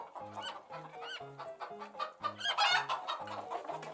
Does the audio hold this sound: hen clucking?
yes